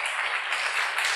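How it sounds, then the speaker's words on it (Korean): A church congregation applauds, a dense and even wash of many hands clapping together, sustained and fairly loud throughout. "우리 주님께 다시 한번 박수로 영광 돌리고요"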